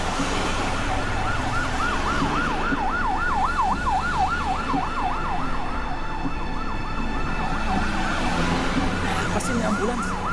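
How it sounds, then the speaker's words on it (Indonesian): An ambulance siren wails steadily and loudly in a rising and falling pattern, with road traffic rumbling beneath it throughout. "Pastinya ambulans, kita kan juga buru-buru."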